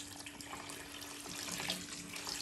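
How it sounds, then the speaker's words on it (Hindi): Water runs steadily into a pot of yellow masoor dal, a continuous broadband splashing hiss that holds at a moderate level for the whole stretch, close by and with no voices. "इसमें अब मैं पानी ऐड करने लगी हूँ।"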